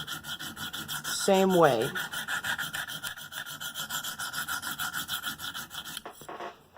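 Steady rhythmic rasping strokes of an M4 Manix knife blade across a fine KME sharpening stone, repeating evenly throughout at close range, with a brief tonal squeal near the start and a pause at the end.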